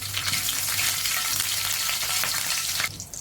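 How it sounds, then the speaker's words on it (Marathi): Mustard seeds, cumin and curry leaves sizzling in hot oil in a frying pan, a loud continuous crackling fry with popping spatters, easing off at the very end, without talk. "आपण फ्राय पॅनमध्ये तेल घेतले, त्यामध्ये मोहरी टाकली आहे, त्यामध्ये जिरं,"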